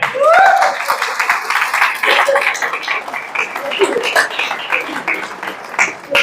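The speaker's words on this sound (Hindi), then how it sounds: "चलिए बहुत बढ़िया, जोरदार तालियां।" A seminar audience breaks into loud, sustained clapping, with a voice talking over the applause throughout.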